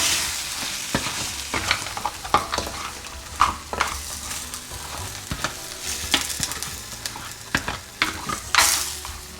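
Mud crab in tomato sauce being sautéed on a hot plate, a steady sizzle broken by repeated scraping stirs and clatters of a utensil against the metal, close and fairly loud with no voices.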